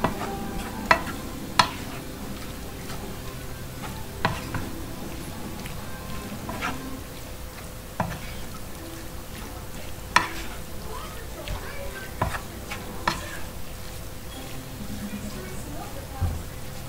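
Scalloped potato mixture is stirred in a kitchen, with repeated scraping and clinking strokes of a utensil against the bowl at an irregular pace over a low hum, and someone talks intermittently throughout.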